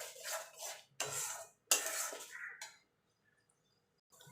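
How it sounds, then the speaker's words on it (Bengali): Spice paste for mutton curry with potatoes being sautéed in a pan, three bursts of scraping spatula strokes against metal over a faint sizzle, close, then near silence before a last short scrape. "এবার ভালো করে মশলাগুলো কষিয়ে নেব যতক্ষণ মশলা থেকে তেল না ছেড়ে আসছে"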